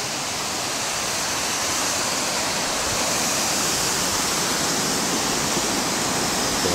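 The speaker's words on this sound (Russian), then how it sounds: "Такой фонтанчик здесь." A seafront promenade fountain shaped like a boat with sails, its water splashing in a steady, loud, broadband rush that continues without pause.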